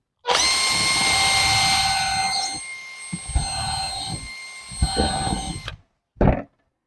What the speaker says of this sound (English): now we forgot to drill the pilot hole again.